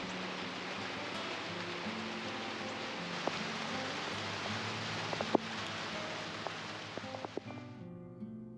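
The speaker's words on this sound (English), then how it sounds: "It's been raining here for the past 3 days." Steady rain falls outside a dry workshop on a multi-day wet spell, a dense, even hiss with scattered sharper drips and taps throughout, fairly faint and with no voices.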